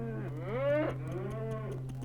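A cow moos once, a long rising and falling low call over a steady hum, fairly faint.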